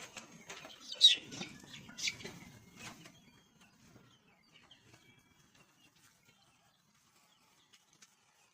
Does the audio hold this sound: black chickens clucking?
yes